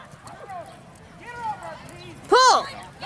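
A horse gallops through a barrel-racing run at an NBHA event in Goshen, its hoofbeats faint and rhythmic beneath excited shouting from nearby spectators.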